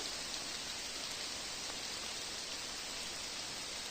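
Heavy rain coming down in a Carpathian forest in spring, a dense, even patter and hiss of drops on leaves and ground, steady and close throughout with no talking.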